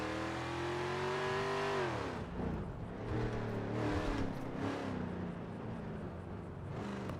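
Revving car engine in GTA V, loud and continuous, with a steady harmonic drone that rises, falls sharply near two seconds, then wavers through repeated throttle blips and gear changes, heard alone without talk.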